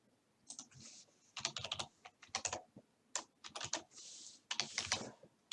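Keys clatter on a computer keyboard in short irregular bursts of fast taps with brief pauses between them, close and fairly quiet, with no voices.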